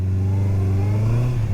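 A 2023 Honda CBR650R motorcycle engine revs steadily and close up, its low, smooth tone rising slightly as it accelerates, with a faint clatter near the end.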